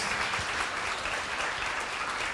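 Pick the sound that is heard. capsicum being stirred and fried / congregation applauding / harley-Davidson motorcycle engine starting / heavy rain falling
congregation applauding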